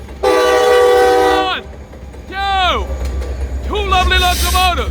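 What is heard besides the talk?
freight train with locomotives and boxcars passing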